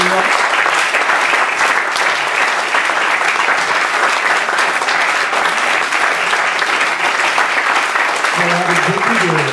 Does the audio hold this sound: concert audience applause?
yes